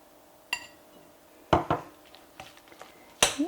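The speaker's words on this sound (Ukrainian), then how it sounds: "І знов перемішую." A spoon clinks and scrapes against a bowl while mashed potato is mixed with an egg, several sharp knocks spaced irregularly, close and fairly quiet with no talk.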